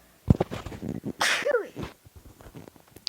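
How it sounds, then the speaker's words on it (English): A single close, forceful sneeze with a sharp intake and burst, surrounded by a few quiet spoken words. "I'm going to sneeze."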